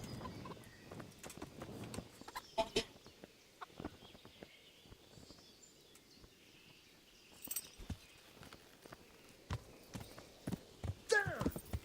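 Horse hooves clip-clopping on a road in Kingdom Come: Deliverance, a medieval open-world game, a steady walking beat under intermittent talk and occasional bird and village sounds.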